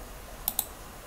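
Two crisp, faint mouse clicks a little apart, clicking a Select folder button on a computer, in an otherwise quiet room.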